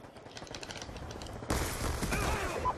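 Rapid gunfire from a small handgun in Black Ops 2 gameplay, starting as a thin patter and then breaking into a louder, dense burst of shots and mechanical clatter near the end.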